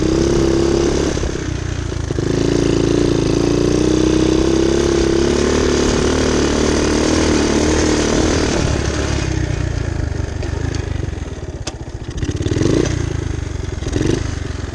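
1972 Honda CT70H motorcycle engine running close and loud, a steady rattling putter with a clattery mechanical edge, the note dipping briefly and then picking up again near the end.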